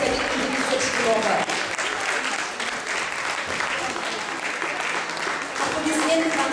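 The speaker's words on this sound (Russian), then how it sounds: "Аплодисменты нашей технической административной поддержки" Costume contest audience at Zilantcon 2017 applauding the technical and administrative support, steady clapping throughout with some voices underneath.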